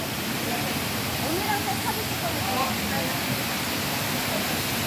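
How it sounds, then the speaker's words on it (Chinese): A small decorative waterfall inside Longshan Temple in Taipei gives a steady, dense rush of falling water, close and constant throughout, with faint background activity mixed in. "那这个是龙山寺进来以后右边的瀑布，瀑布，小瀑布，迷你瀑布。"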